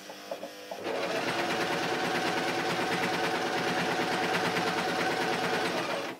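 A sewing machine stitches the seam of a hot water bottle cover, starting after a few soft handling knocks and then running in a fast, steady, rattling whir close up to the end.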